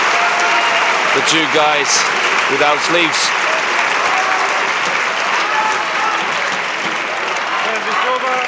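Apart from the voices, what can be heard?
applause for badminton players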